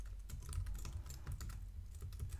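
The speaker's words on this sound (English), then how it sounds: "Now let's try run that by typing go test in the terminal." Someone types a test command into a terminal on a computer keyboard, producing a quick, faint, uneven patter of close keystrokes with no talking.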